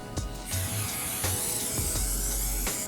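A continuous hissing spray from an aerosol can runs for a couple of seconds, close and steady, with a few brief clicks and knocks around it, while a whole turkey is prepared for smoking.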